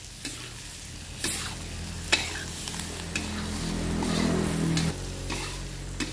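Curry leaves and vegetables sizzle in hot oil for Bombay-style spiced fried mutton, with a spatula scraping and stirring in several distinct strokes over a constant frying hiss, close and without talk.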